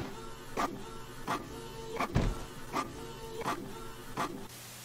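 Inkjet-style printer running through a print job, with a rhythmic series of mechanical passes about every 0.7 seconds, each a short whirring burst, close and moderately loud with no talking.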